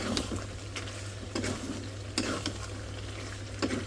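Cumin seeds fry in a cooking pot during late-night home cooking, a steady close sizzle broken by periodic scraping strokes of a stirring utensil, with no talking.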